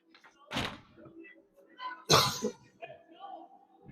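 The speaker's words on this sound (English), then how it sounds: "Excuse me for coughing in your faces there." Two short, harsh coughs, one early and a stronger one midway, close by at a youth ice hockey game, with faint murmuring between them.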